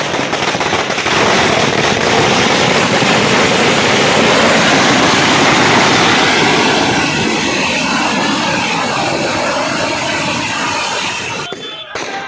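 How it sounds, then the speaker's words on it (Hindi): Strings of firecrackers burst at a Maratha community street celebration in Akola, a dense, loud, continuous crackling barrage lasting over ten seconds before ending suddenly. "पटाखे फोड़कर तथा एक दूसरे को पेड़े खिलाकर एक ही जल्लोष किया"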